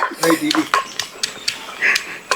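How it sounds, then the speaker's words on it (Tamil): Garlic pounded for a village-style fish gravy: a run of sharp, separate knocks, about ten of them at an uneven pace, close and fairly loud, with people talking in between. "அடுத்ததாக பூண்டை கொஞ்சம் இடித்து எடுத்துக்கலாம் நங்கு நங்கு நங்குன்னு இடிக்கணும் பூண்டை"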